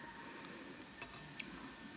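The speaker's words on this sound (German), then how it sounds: "zuerst der Tofu mit ein bisschen Öl, wird er schön knusprig gebraten." Smoked tofu crisping in a little oil in a pan makes a faint, steady sizzle with a few small crackles and pops and no talk over it.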